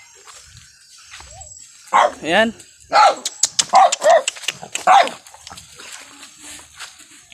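Several sharp dog barks ring out in quick bursts, fairly loud and close, with a short word spoken amid them and quieter sounds trailing off.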